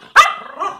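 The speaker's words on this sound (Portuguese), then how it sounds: "Essa cachorrinha é brava." A small dog gives one sharp bark followed by a brief trailing yip, close and loud in a quiet room.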